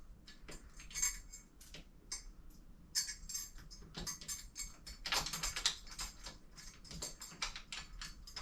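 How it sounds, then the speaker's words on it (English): A washer is screwed in during assembly of a modern futon sofa bed frame, giving quick clusters of small metallic ticks and clicks at close range, in irregular bursts with short gaps between them. "screw in a washer."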